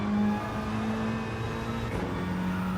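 Volkswagen Scirocco engine in Gran Turismo 7, a steady close drone holding a fairly constant pitch, with a slight shift in tone near the end and no talk.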